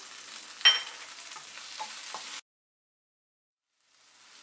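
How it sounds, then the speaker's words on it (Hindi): Finely chopped tomatoes hit a pan with crisped potatoes for sabudana khichdi, a soft sizzle and a few stirring scrapes for a couple of seconds, then near silence before a faint hiss returns. "अब हम टोमेटो को बहुत अच्छे से गलाएंगे नहीं, हल्का सा दानेदार ही रखेंगे।"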